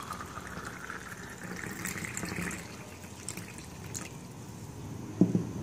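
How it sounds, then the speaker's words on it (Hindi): Strained, freshly ground juice poured over boondi into desi jaljeera sharbat makes a steady, close liquid trickle that runs for several seconds and ends in a brief louder splash, with no talking. "हम इसमें सबसे पहले ये बूंदी डालेंगे, फिर उसके बाद ये जूस जो हमने पीस के इसको एक छन्नी से छान लिया है।"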